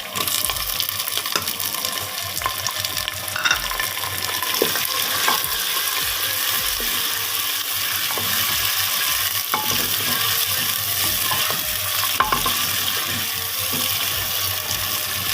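Chopped onions and green chilies frying and being stirred in a clay handi pot, a steady loud sizzle with repeated scraping strokes and occasional clinks throughout, no voices.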